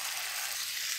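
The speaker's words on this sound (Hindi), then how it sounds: "अब इसमें हम डालेंगे टमाटर का पेस्ट" Boiled tomato paste hits a hot pan, giving a steady, close hissing sizzle for a brief moment with no voices.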